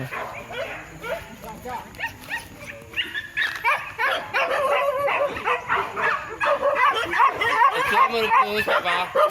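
Many dogs bark and yip close by in rapid, overlapping bursts, some whimpering, with voices speaking intermittently amid the noisy pack.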